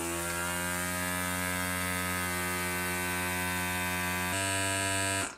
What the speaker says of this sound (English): The pump is very loud.